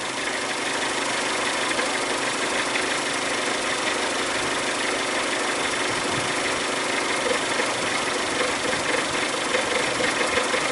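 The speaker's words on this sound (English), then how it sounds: "The engine's starting to buck again" A 2003 Mazda Protege engine idling close by with a steady rumble and slight irregular stumbles from a misfire, loud and constant throughout.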